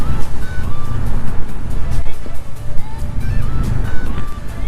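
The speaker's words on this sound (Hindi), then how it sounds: "अब जो बाइक पे राइड हो रही है अपनी, ये वर्जन 1 है FZ25 का।" A Yamaha FZ25 version 1 motorcycle cruises along a highway, its engine and wind roar forming a loud, steady rumble with no break throughout.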